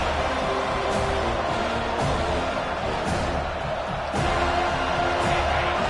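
A home crowd roars steadily at a Clemson vs FSU college football game as the defense tries to get off the field on third down, a dense, continuous wash of stadium noise with a brief surge near the end.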